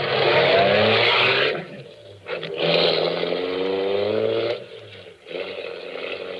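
Radio drama sound effect from 1946 of a car driving to a garage, a loud close engine drone in surging bursts with revving pitch changes and brief dips between them.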